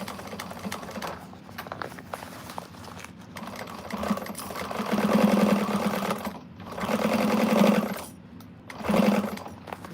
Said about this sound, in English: Top stitching this isn't going to be too hard, I don't think.